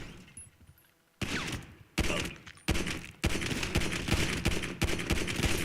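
Rapid machine gun fire in GTA 5 Online, a mag dump, bursts out in several loud stretches after a quiet opening, the last burst running continuously to the end.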